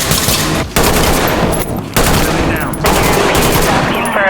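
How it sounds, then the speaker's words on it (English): An RK95 AK-style rifle fires in the Ready or Not video game mod: loud, sustained fully automatic bursts with a few brief breaks between strings of shots. "I just absolutely love the sounds of this rifle"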